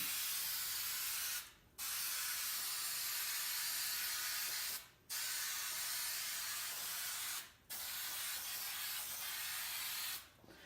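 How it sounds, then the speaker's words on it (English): Spray glue hisses from an aerosol can in four long, loud bursts, each cut by a short pause, while pieces are coated. "I'm going to make sure that I have each piece well covered in the spray glue"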